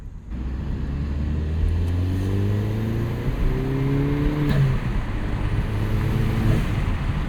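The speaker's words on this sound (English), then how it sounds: "Had to give you some boost noises with the windows down" Turbocharged car engine swells as it accelerates through gears, boost and rising whine with road roar heard from inside with the windows open.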